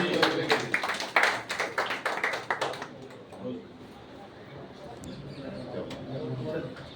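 An audience applauds at a party founding-day event in Delhi, bursts of clapping for the first few seconds that fade into a quieter murmuring room with distant voices.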